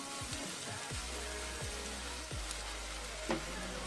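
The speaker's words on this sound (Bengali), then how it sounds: "আমি এখন পেঁয়াজটা ভাজা ভাজা হয়ে আসলে তাতে দিয়ে দিচ্ছি আদা রসুনের পেস্ট 1 চা চামচ পরিমাণ।" Onion and ginger-garlic paste fry in hot mustard oil for a Bengali-style dish, a faint, steady sizzling hiss over a low background hum, with no voices.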